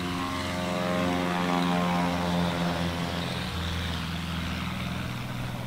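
A heavy touring-class propeller airplane flies a STOL demonstration at Sun N Fun in Paradise City, its loud, steady propeller drone shifting in pitch as it passes, with no talk.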